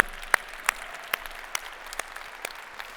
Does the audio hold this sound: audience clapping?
yes